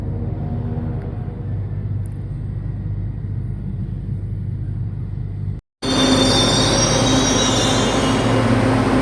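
A light rail train passes close by near Doroteo Jose station in Manila, its loud rumble and squealing wheels filling the air. After a brief dropout the sound returns with a brighter, harsher screech of rail and wagons.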